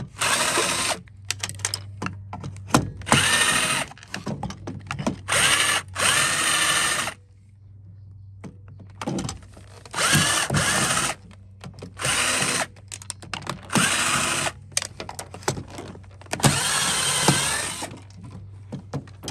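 A power tool drives screws out of a Shark Navigator vacuum body in repeated loud whirring bursts of a few seconds each, separated by brief quiet gaps, close up with no talk.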